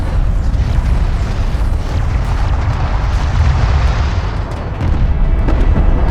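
A hostile craft blows up in Deserts of Kharak as a heavy, sustained rumbling explosion with a deep boom that rolls on loudly throughout, joined by scattered crackles of battle, with no talk.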